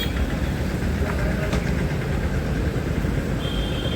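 A Swaraj 717 mini tractor engine runs steadily in a continuous, fairly loud drone with no pauses, heard outdoors on its own.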